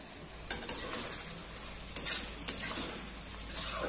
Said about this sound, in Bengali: ধীরে ধীরে আমরা এটাকে ভেজে নেব।